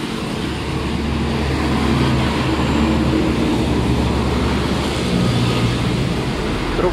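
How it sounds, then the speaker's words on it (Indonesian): A Hino tronton heavy truck rolls along a road, its engine and tire roar forming a steady, broad drone that holds at moderate loudness for several seconds with no voices. "Truk tronton Hino."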